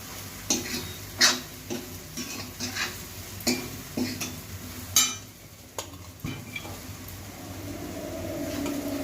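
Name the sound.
stirring puffed rice (borugulu) in a pan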